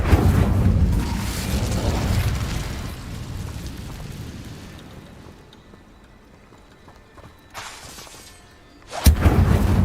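An Incendio fire spell cast in Hogwarts Legacy: a loud roaring burst of flame that slowly fades into a low crackle, followed by a short hiss and then a sharp, loud whoosh near the end.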